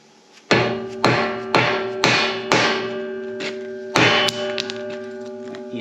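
A pipe pounded into tight drilled fence post holes, six or seven loud ringing metallic strikes at a steady rhythm, each leaving a bright resonant tone that decays between blows.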